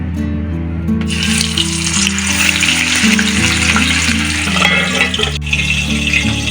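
Cauliflower pieces fry in hot oil, making a loud, close, unbroken crackling sizzle that holds steady from start to finish without any voices.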